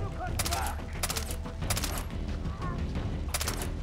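Rapid gunfire from the first-person shooter Far Cry 3 crackles in repeated bursts over a dense game soundscape, with a player's voice faintly mixed in.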